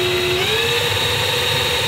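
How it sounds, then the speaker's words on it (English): An electric drill bores a hole in a custom Mazda 3 headlight housing. Its close, loud motor whine rises steadily in pitch through a short burst. "I'm just gonna send the drill."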